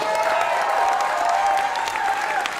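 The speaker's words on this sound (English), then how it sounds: "Please make some noise for them." Comedy club audience at a stand-up crowd-work show breaks into sustained applause with scattered cheers and whoops, a full, loud wash of clapping lasting the whole stretch.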